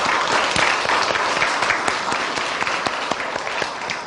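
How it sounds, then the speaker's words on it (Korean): Steady applause from a crowd at a Hanyang University chapel service, many hands clapping continuously at an even level throughout. "다시 한번 격려의 박수 하겠습니다"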